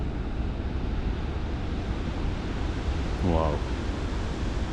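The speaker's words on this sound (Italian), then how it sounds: "guardate l'oceano, che potenza che ha, come si infrange sugli scogli" Heavy ocean surf breaks against rocks on the Portuguese coast, a dense steady roar filling the whole span, with a single brief exclamation from a voice near the end.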